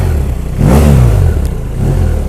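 A 2017 BMW F800 GS parallel-twin motorcycle idles close by, then its engine is blipped in a loud rev that rises and falls, followed by a second, shorter rev and a settle back to idle.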